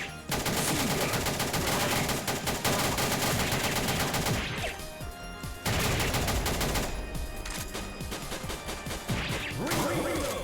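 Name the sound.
machine gun fire in a video game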